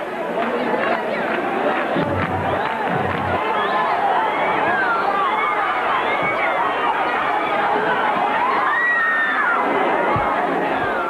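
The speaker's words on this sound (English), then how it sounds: "As the crowd surge into the medieval town" A dense crowd pours into a busy medieval town centre, a steady wash of overlapping voices, shouts and shuffling at constant loudness, with scattered cries rising above the din.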